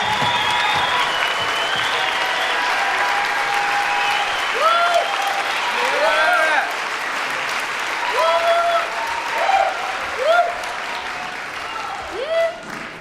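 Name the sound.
standing ovation applause for graduates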